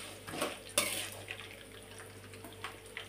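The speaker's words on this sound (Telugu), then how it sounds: "ఒక 4-5 మిరియాలు వేసుకొని మళ్ళీ ఒక్కసారి ఫ్రై చేసుకోవాలి." Peppercorns and cumin fry in a pan, with soft sizzling under light metallic clinks and scrapes of a utensil against the pan, heard close and fairly quiet.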